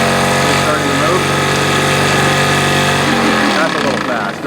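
A small stationary steam engine runs fast and steady, its rapid mechanical chugging and whirring held loud and continuous throughout, with people talking over it before it slows slightly at the end.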